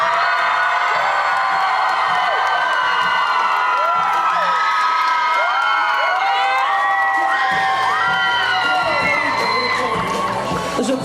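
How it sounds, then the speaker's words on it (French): A cosplay contest audience at a Japan-themed convention shouts, whoops and cheers loudly to back a contestant, with a dense crowd roar and children's high yells rising and falling throughout. "ceux qui ont pensé que c'était extraordinaire, je compte sur vous pour crier bien fort."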